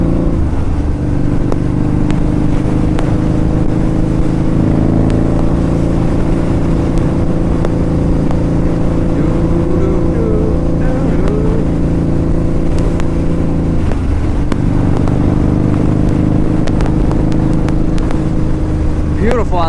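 A 2003 Harley-Davidson V-Rod motorcycle on a road test ride, its steady engine drone holding throughout with wind rumble, briefly dipping around the fourteen-second mark as the throttle eases and returns.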